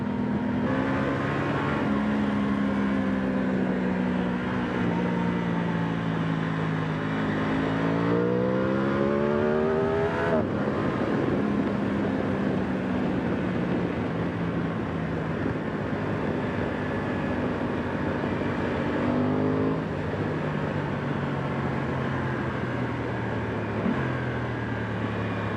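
Aprilia Tuono 660 Factory motorcycle ridden hard along country roads, its engine loud and close throughout with rising and falling revs through gear changes, plus steady wind rush.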